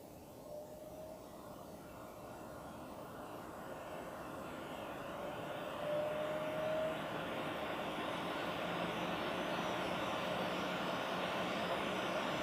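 A Vax ACAMV101 air purifier fan is switched to its high setting, a steady broadband whoosh that slowly rises in loudness and stays constant, close by with no talk.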